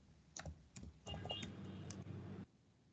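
Quiet keystrokes on a computer keyboard, a few scattered clicks followed by a steadier burst of typing that stops abruptly, close and faint in a quiet room.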